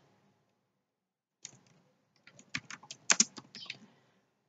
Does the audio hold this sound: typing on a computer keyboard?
yes